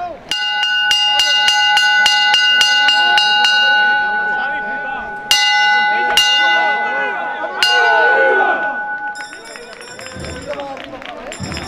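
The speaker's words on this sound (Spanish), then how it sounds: "campana." Bells ring loudly and close, a rapid run of ringing strikes that slows to a few spaced clangs, then a brighter bell chimes near the end, during a procession in Málaga.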